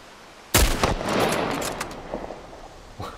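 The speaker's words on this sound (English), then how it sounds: "I managed to shoot the top of the wooden plank off" A single sharp gunshot in The Last of Us Part 1 video game, fired at an enemy near a wooden plank, followed by a reverberant tail and faint scattered clatter.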